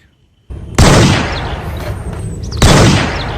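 Toy AK-47 gun firing two loud, harsh burst effects, each starting sharply and trailing off, close to the microphone with no talking.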